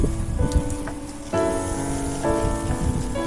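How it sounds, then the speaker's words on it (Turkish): A light sprinkler spray falls on freshly sown garden soil, giving a steady hissing patter like fine rain that continues throughout with a faint underlying hum. "Yağmurlama ile çok hafif şöyle şekilde yağmurlama yapın arkadaşlar üstüne."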